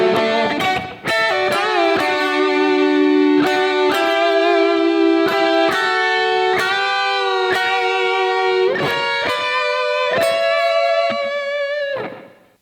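Two distorted electric guitars play a solo line together in harmony, sustained bends and picked notes ringing loudly and continuously, no voices.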